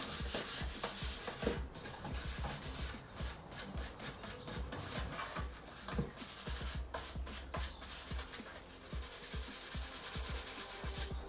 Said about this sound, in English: just light this of scours with a 3M pad